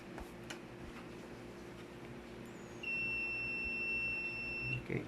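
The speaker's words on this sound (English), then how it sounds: "when you hear the buzzer sound, it means that there is continuity on the line" A multimeter continuity tester set to buzzer mode, checking a series and parallel circuit for shorts, emits a steady high-pitched electronic beep that starts partway through and holds for about two seconds, then cuts off, over a low background hum.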